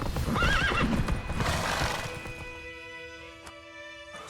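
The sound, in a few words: horse Roach trotting and neighing in video game The Witcher 3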